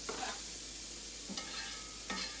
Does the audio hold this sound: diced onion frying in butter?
yes